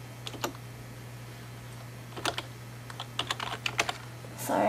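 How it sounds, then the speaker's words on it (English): Keystrokes on a computer keyboard while entering text in Photoshop: sparse single taps, then a quicker cluster of clicks, close and fairly quiet over a steady low hum. "Sorry, I'm typing slow."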